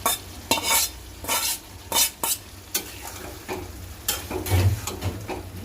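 Curry fries in a pan as stems are added and stirred in, with repeated scraping spatula strokes in quick bursts over a continuous crackling sizzle, close by, and occasional metal clinks.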